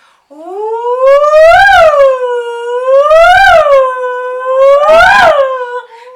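Voices imitating sirens, three long rising-and-falling wails in a row, loud and close.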